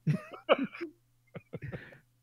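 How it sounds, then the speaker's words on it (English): A person coughs, a couple of short throaty bursts followed by a brief pause and another rough cough, close and moderately loud. "Probably just a weird cough or something."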